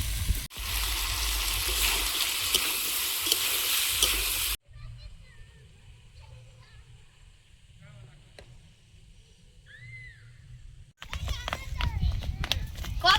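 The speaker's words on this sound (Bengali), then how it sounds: "পেঁয়াজ টমেটো আর কাঁচা লঙ্কা দিয়ে আরো সবজিটা কষিয়ে নেবো" Vegetables sauté in a pan with onion, tomato and green chilli, a loud steady sizzle that drops away to a quieter stretch with faint chirps before the sizzling returns.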